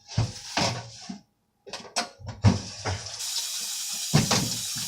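Potatoes being rinsed under a running kitchen tap while making beef stew, with splashing bursts of water, brief pauses and steady flow filling the sink, close and fairly loud.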